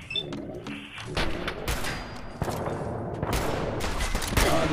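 Hunting rifle gunfire in the video game Fallout 4 comes as several sharp cracks at an irregular pace over a busy combat soundscape, with no talk over it.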